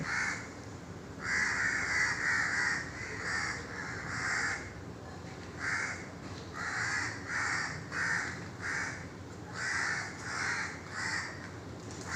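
A flock of crows caws in the morning, with repeated harsh calls coming in bursts and overlapping groups, moderately near over a quiet outdoor background, no voices.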